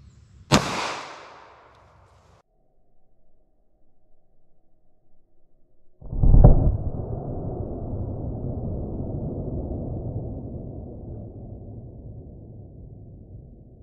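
A short-barrel .357 Magnum or 9mm handgun fires two loud, sharp shots several seconds apart, the second followed by a long rumbling echo.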